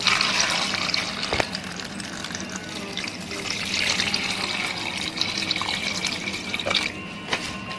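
Water streams steadily into a pot of carrots, a constant splashing gush with a few small clinks along the way.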